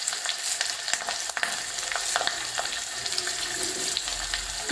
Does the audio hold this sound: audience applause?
no